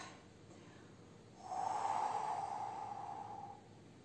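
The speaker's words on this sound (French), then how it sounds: "je ne cache pas que je souffle" A fitness instructor exhaling forcefully during an abdominal exercise, a single close breathy blow lasting about two seconds in an otherwise quiet room.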